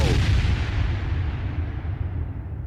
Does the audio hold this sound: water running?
no